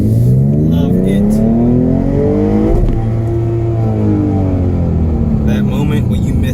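A V6 Mustang fitted with a Borla S-type exhaust revs loud and close, its engine note climbing, dipping sharply at a missed gearshift, then rising again in a continuous deep roar.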